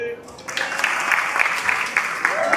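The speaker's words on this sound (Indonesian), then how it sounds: "Tepuk tangan nih." An audience at a talk bursts into steady applause, continuous clapping that starts abruptly and holds at a moderate level for a couple of seconds.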